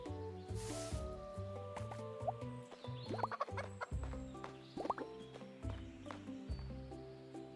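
Chickens clucking in the Roots of Pacha farm game, a series of short repeated clucks and squawks with background music and game sounds, close and clear.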